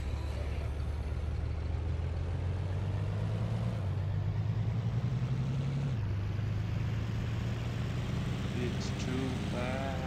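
Car engine running steadily in the zombie survival game State of Decay, a continuous low rumble with a slight shift in pitch, heard clearly throughout beneath game sounds.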